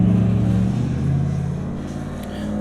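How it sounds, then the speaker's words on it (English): A loud pickup truck engine drones and revs close by, a heavy low rumble that holds steady before easing slightly toward the end. "Welcome to the South, where your pickup truck is loud."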